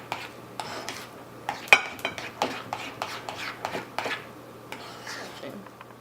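Deviled egg yolk filling being mixed in a bowl, a run of close, distinct clinks and scrapes of a utensil against the bowl in an uneven rhythm, with a faint steady hum behind.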